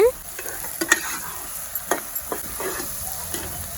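Onions and green chilies frying in a pan for chicken curry, a steady sizzle broken by several sharp scraping clicks of a spoon stirring against the pan, close and loud with no talk.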